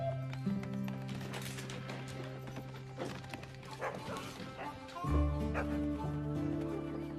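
Dog barking in a dramatized scene, a few sharp barks and yips scattered over background music, with a voice talking briefly.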